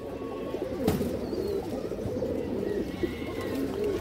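A stone-eyed kajla giya pigeon coos low and continuously nearby, its rolling calls layered with other flock murmuring, a sharp knock early on and faint chirps.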